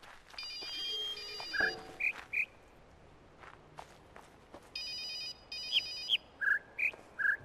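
A telephone rings in the puzzle game The Witness, in repeated bursts of ringing separated by pauses, with footsteps moving along between them, and no talking.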